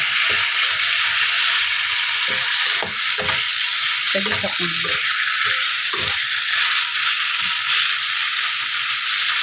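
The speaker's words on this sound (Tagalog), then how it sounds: "Medyo prito-prito ko hanggang sa na-golden brown." Boneless chicken sizzles and spatters in a hot pan, frying toward golden brown, a constant bright hiss broken by stirring scrapes, with a brief spoken remark partway through.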